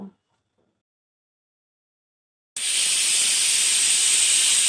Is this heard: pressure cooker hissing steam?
yes